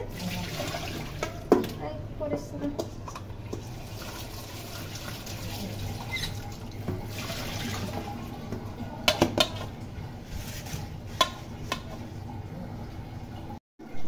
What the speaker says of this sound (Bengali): মাছটা আবারও ধুয়ে নিতেছি